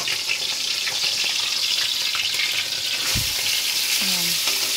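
Loud, continuous sizzling of fish frying in hot oil in a pan, close up, with a brief clink of a utensil near the end.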